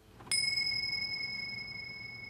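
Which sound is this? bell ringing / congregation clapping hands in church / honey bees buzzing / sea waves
bell ringing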